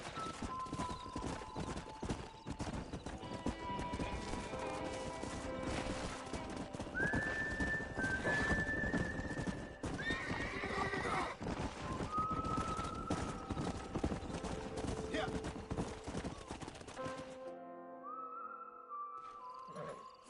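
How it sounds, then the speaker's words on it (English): Horses in the Red Dead Redemption video game: steady hoofbeat clip-clop throughout, with several whinnies and neighs rising above the hooves, ending in a brief quieter stretch with one more call. "We got some fine horses."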